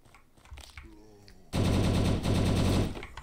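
Zombie-shooting gunfire in the survival game Last Hope Bunker: faint game sounds and a brief voice open, then a loud sustained burst of automatic fire erupts, pauses briefly, and continues before cutting off.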